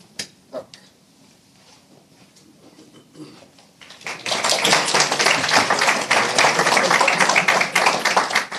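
Scattered isolated claps and taps give way to a sudden burst of sustained, loud group clapping that continues steadily to the end, at an Icelandic company's annual results presentation.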